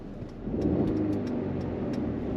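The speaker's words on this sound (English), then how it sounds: "Already in Sport Plus mode the car sounds a lot more aggressive, even if it's just a run-of-the-mill 2-litre 4-cylinder with mild hybrid technology." A Mercedes-Benz E300 (A238) with a 2-litre four-cylinder mild-hybrid petrol engine, parked in Sport Plus mode, gives a low, steady engine drone that swells slightly and then holds, heard up close and alone.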